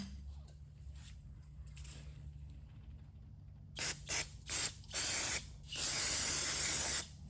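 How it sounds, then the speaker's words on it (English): Carb cleaner sprays in several short, sharp bursts at the throttle of a Raptor 250 ATV, close up, then one longer steady hiss, over a low background hum. "I'm going to spray this with some carb cleaner."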